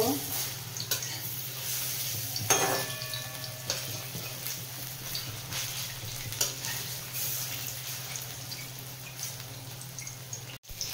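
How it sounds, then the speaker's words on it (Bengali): Chana dal fritters frying in oil in a pan, a steady soft sizzle with occasional utensil clinks and a brief sharp knock near the end. "বড়াগুলো এক পিঠ ভাজা হয়ে গেছে, আরেক পিঠ উল্টে দেব।"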